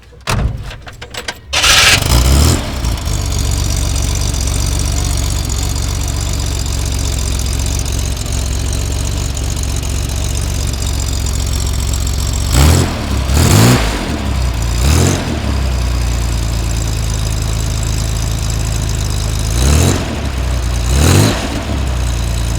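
A 1961 Corvair Lakewood station wagon with its stock exhaust cranks and starts, then idles loudly and steadily up close, with a few sharp revs rising and falling near the middle and the end.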